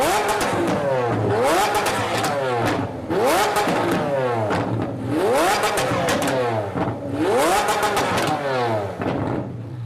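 A tuned Lamborghini Aventador built by SB Race Engineering revs hard in repeated rising bursts, loud and close, with popping exhaust crackle between each climb and no talk over it.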